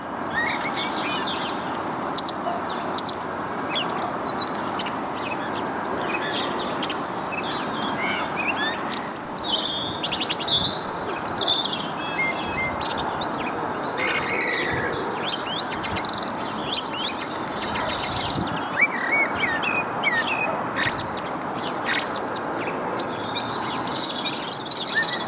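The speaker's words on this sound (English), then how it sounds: "I met a very chatty blackbird" A blackbird singing beside a British canal, its chirps, warbles and whistled phrases bursting out repeatedly over a constant soft outdoor hiss, fairly close and clear with no voices.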